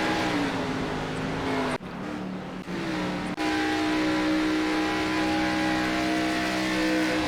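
NASCAR Xfinity race cars at Atlanta Motor Speedway in iRacing. Engines drone steadily and loudly, with a brief dip in the middle before the roar resumes at full intensity.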